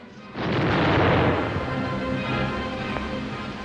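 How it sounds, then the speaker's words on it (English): A hand grenade detonates with a heavy, close boom that swells and then rumbles on with a long decaying roar, no voices over it. "We always throw hand grenades ahead of the enemy, so that he runs into the detonation."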